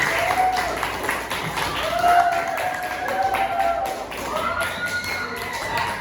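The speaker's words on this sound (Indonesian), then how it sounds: "Berikan tepuk tangan untuk semua." Students in an Indonesian classroom clap together after the teacher's praise, a steady scatter of hand claps with tapping beneath it and a few voices rising over the noise.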